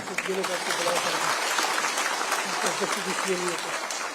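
Crowd applause at a Mumbai political rally, a dense, steady wash of clapping lasting the whole stretch, with a voice talking over it.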